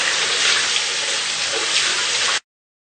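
Tap water runs steadily over paint brushes being rinsed, a loud, close, continuous gush that stops abruptly near the end.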